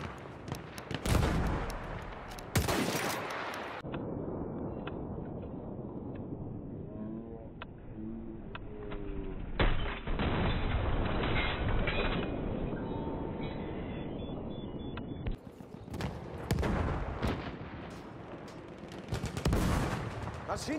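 Sustained machine gun fire from a Battlefield 1 battle rattles in dense, loud bursts for nearly the whole stretch, with heavy rumbling battlefield noise around it and no voices.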